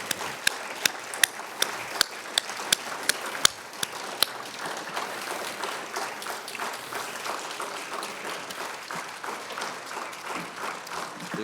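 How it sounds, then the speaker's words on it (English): An audience breaks into applause to welcome a speaker at an event on Israel's resilience and security. Loud sharp claps ring out at first, then settle into dense sustained clapping throughout. "Please join me in a round of applause"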